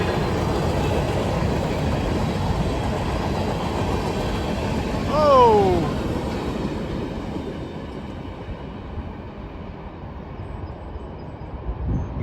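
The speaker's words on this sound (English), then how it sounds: "Man, that was a long train." A long freight train rumbles past steadily at close range, with a brief squeal of wheels partway through, before the noise slowly fades; a man briefly exclaims.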